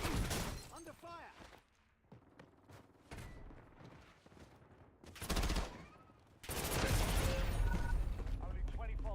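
Loud bursts of gunfire and mechanical weapon clatter during a firefight in the Black Ops 2 video game. Volleys come in repeated waves, with voices speaking over the shooting.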